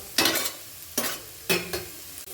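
Beans and potatoes fry in a pan as a spatula stirs them in three scraping strokes roughly half a second apart over a soft continuous sizzle, close by with no talk.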